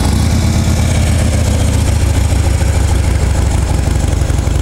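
A Harley-Davidson Street Glide with a 103 engine, six-speed and factory exhaust idles close by, a steady, loud, throbbing rumble that runs unbroken from start to finish with no talking.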